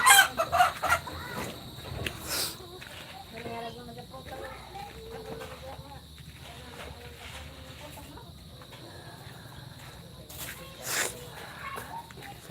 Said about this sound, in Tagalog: Ang manok dito.